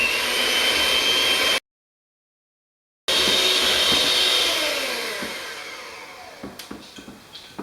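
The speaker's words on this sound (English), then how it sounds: "Mix it really, really long because the longer you mix it, the frothier things get" An electric mixer beats almond bar batter with a steady whirring motor drone. It cuts out for a moment of silence, then resumes, easing down toward the end amid a few light knocks against the bowl.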